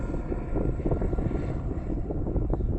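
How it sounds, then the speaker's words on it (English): A helicopter passes overhead with a loud, steady low-frequency rotor chop and engine drone that fills the whole stretch without letup, no voices over it. "I have a helicopter passing over."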